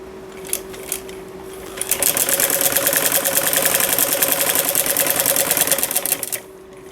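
A sewing machine running a thick line of stitching down the middle of sleeve fabric, a few faint clicks followed by about four seconds of steady, rapid close-up whirring that stops abruptly.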